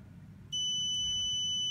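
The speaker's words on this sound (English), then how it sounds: "Beep sounds, long beep sounds" A steady, high electronic beep from a smart home gateway starts partway in and holds, long and unbroken, over a low background hum, signalling a successful setup.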